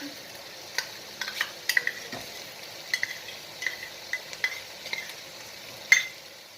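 Chicken pieces marinated in yogurt and masala fry in a pan with a low, steady sizzle, while a spatula stirs in quick, irregular scrapes and light clinks. No one speaks.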